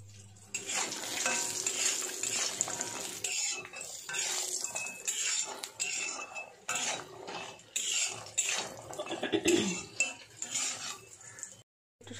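Lentil badi fried until red in a wok, with a low sizzle under repeated scraping and clinking of a metal spatula stirring the pieces, uneven bursts of activity and a short pause near the end.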